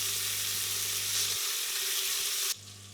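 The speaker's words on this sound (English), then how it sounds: "I'm just going to saute this off until it's got a nice brown colour on the outside" Meat browning in olive oil in a pan for a bolognese ragù: a loud, even frying hiss that runs steadily, then drops away abruptly near the end, with no voices.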